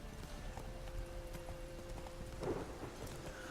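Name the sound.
horse Roach trotting hooves in Witcher 3 video game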